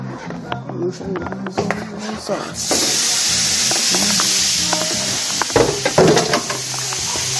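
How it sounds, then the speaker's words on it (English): Chicken frying in butter in a pan, a bright hiss that starts abruptly partway through and holds steady; someone talks over the cooking in the earlier part. "Yeah, listen to that sizzle"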